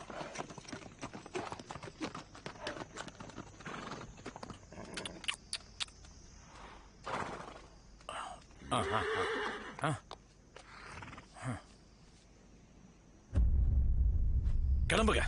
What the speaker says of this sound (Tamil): என்னது குதிரையா?